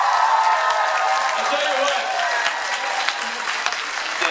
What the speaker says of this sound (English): everyone should stand up and clap for Speight right now